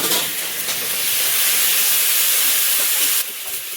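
Ginger-garlic paste with green chilli fries in a hot pan, a loud steady close hiss that cuts off briefly near the end, with no voices.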